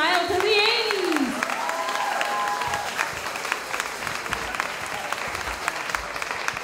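A crowd at a local Dancing With the Stars charity show in Auburn claps in dense, sustained applause after an 80s-style dance routine, while a host speaks over the clapping near the start.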